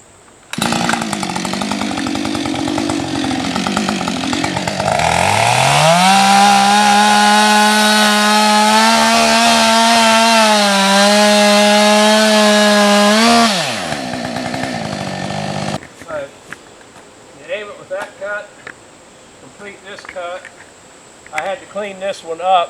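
A chainsaw plunges in a bore cut through a leaning snag, the engine revving hard and steady under load for several seconds before dropping to idle, with someone talking afterward.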